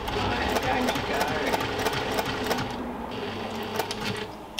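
Sewing machine stitching an encased seam on the side panels of a bag pattern, a steady close mechanical whir running throughout with rapid needle ticking.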